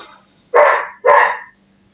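A dog barks twice, loud and close, two sharp evenly spaced barks separated by a short pause, in a quiet kitchen with a faint low hum.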